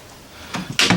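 An RV cabinet drawer in a 2018 Thor Motor Coach ACE 27.2 motor home slides on full-extension guides, giving two quick close knocks of a wooden drawer box near the end, close and fairly loud.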